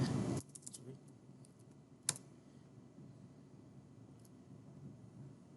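Computer keyboard keys tapped for copy and paste shortcuts, a few quiet clicks with one sharper key strike, faint and close in a quiet room.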